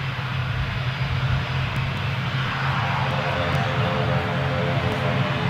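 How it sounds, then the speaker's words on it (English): An ATR turboprop airliner taxis onto the runway at Newcastle airport in wet, rainy weather, its engines producing a steady, loud droning roar with a low hum throughout, heard from a distance. "ATR is going to be taking the runway."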